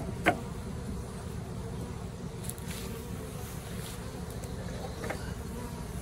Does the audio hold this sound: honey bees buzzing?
yes